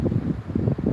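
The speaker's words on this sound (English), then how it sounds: "A very windy morning, Saturday morning." Strong wind on a winter morning in Lapland buffets the microphone in steady rough gusts, loud and close, with no voices.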